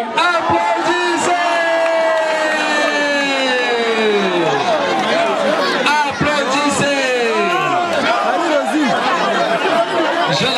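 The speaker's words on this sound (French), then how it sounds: "Applaudissez!" Crowd at a religious celebration cheering loudly, with sustained shouts, whoops and overlapping voices, dense and close, with only little distinct clapping.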